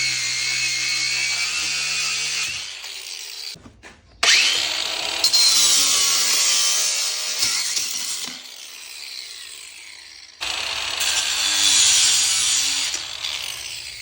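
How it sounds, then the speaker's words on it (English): An all-purpose diamond cutoff wheel power tool bites into wood with a loud, harsh grinding whine in two long cuts separated by a short pause, close and with no voices. "Here's the real advantage of using this all-purpose diamond cutting blade. You can go straight from hardened metal to wood to thin metal to PVC."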